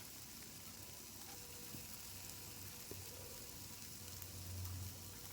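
Finely chopped potato, beans and carrot fry gently over a very low flame, giving a faint, soft sizzle with a few light stirring knocks.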